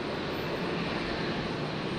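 Jetstar Airbus A321neo arriving from Sydney at Brisbane Airport at night: a steady, moderately distant broadband jet roar holds evenly throughout, with no talk over it.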